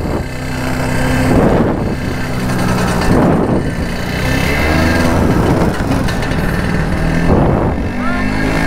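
A Vespa scooter engine runs steadily nearby while a learner rider gets started, a continuous loud droning hum with slight surges in pitch, recorded up close and rough against wind or handling noise.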